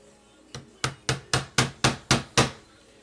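A hammer drives a nail into a wooden picture frame to start a pilot hole, giving eight sharp, evenly spaced blows that ring out close and clear with nothing else heard.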